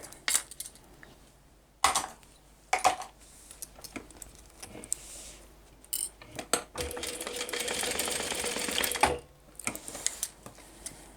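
A sewing machine bastes fabric pieces in place for a switch case: scattered clicks and handling knocks surround a short, steady whirring burst of stitching, close and moderately quiet, with no speech.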